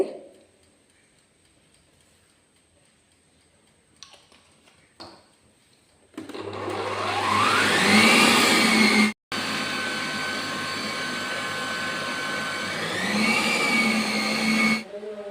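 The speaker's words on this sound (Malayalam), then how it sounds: "ആദ്യം സ്പീഡ് കുറച്ച് ബീറ്റ് ചെയ്യുക പിന്നെ കുറേശ്ശെ കുറേശ്ശെ സ്പീഡ് കൂട്ടി കൂട്ടി കൊണ്ടുവരുവാണ്" An electric beater whipping cream with vanilla essence for a white forest cake starts after quiet clicks and rises in pitch as the speed is stepped up, a loud steady whine broken by one short pause, no talk.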